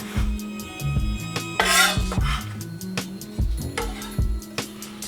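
Shallots scraped from a board into a bowl make close, repeated clattering scrapes and knocks, irregular and fairly loud, with a brighter rasping swipe partway through and no talk.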